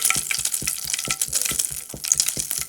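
Butter and coconut oil sizzle hot in a pan, a loud, close, crackling fry with steady spitting and popping bursts and faint stirring taps underneath.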